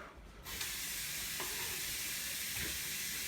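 A kitchen sink sprayer hose kicks on after a brief quiet moment and then hisses in a steady, fairly soft spray of water, with a couple of faint clicks underneath.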